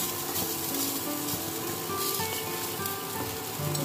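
Onion, panch phoron, green beans and carrot sizzle in hot oil in a pan, a steady, close crackling hiss with small pops throughout and no talk.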